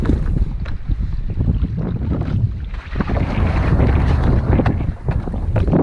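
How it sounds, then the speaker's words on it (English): Strong wind of about 22 miles an hour buffets the microphone in heavy, uneven gusts during wing foiling on open water, with rushing air and water noise throughout and no voices. "You see, quite windy now, probably up to about 22 miles an hour."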